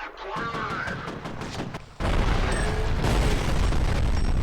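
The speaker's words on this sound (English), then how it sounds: "Oh, that seems like grenade time to me." A grenade explosion in the FEAR shooter game hits as a sudden loud boom that gives way to a thick, sustained roar of blast and debris, following a stretch of crackling gunfire and commotion.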